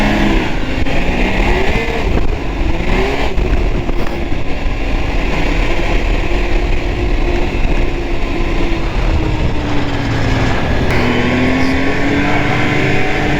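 Arctic Cat Thundercat snowmobile engine droning loud and steady throughout a ride, with rising and falling pitch as the sled works through corners, no speech.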